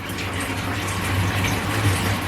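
Water draining out of a wheatgrass seed jar into a sink, a steady, close splashing gush with no pauses.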